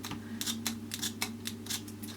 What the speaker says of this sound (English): I'm literally taking a pair of scissors and making snips in the cardstock